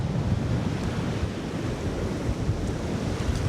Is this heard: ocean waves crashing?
yes